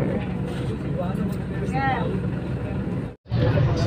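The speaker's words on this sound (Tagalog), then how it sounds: "Daming motor." Motorcycles and other vehicles roll through busy traffic on Commonwealth Avenue toward Lagro, Quezon City, a steady engine rumble and road noise heard from a moving vehicle, with a brief dropout near the end.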